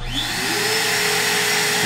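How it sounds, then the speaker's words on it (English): A shop vacuum and a wood router start together from a remote-controlled outlet, spinning up with a rising whine into a loud, steady roaring hum that continues without pause. "I can also turn the vacuum and the router on at the same time with one button"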